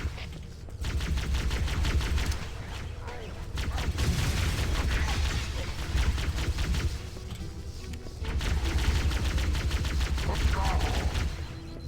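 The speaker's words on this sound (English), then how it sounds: "Alright, who's shooting me?" Rapid automatic gunfire from a Halo-style shooter game, loud and nearly continuous, in dense overlapping bursts with only brief lulls.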